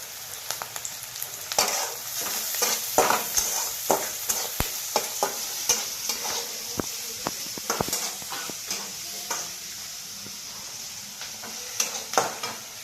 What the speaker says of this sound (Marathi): आता या पोह्याला आपण हलवून घेऊया